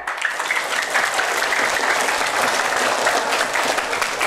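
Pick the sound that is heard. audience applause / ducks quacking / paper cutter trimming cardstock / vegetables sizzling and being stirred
audience applause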